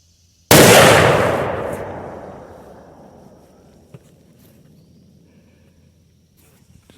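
A single deer rifle shot at an outdoor range cracks sharply and close, its loud report rolling off into a long fading echo over several seconds, followed by a faint click and a small bump near the end.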